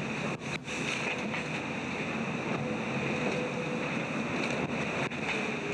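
Racing sailboat hull on the open ocean, a steady roar of rushing water and wind across the hull, with a couple of brief dull impacts against waves, loud and continuous.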